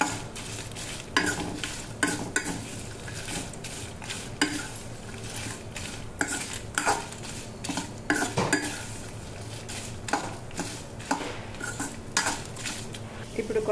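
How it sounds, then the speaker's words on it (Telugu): Dried red chillies, broken in half, frying in a pan with a low sizzle under repeated sharp clinks and scrapes of a metal spatula against the pan, steady and close, with no talking. "ఎండుమిర్చి ఇలా మధ్యలోకి తుంచి వేసుకోవడం వల్ల లోపల ఉన్న గింజలు కూడా ఫ్రై"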